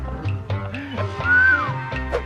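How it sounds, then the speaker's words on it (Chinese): A person whistles one short tune that rises and then falls, standing out over a low background murmur with no one speaking. "他现在开始经常对我就是吹口哨"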